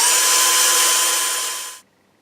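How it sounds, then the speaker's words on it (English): A tiny hand drill bores holes into the side of a Martin JC 16RGTE Aura acoustic guitar during a repair, giving a steady close whirring whine that runs evenly for almost two seconds, then cuts off into quiet. "What we're actually going to be using is this teeny tiny little hand drill"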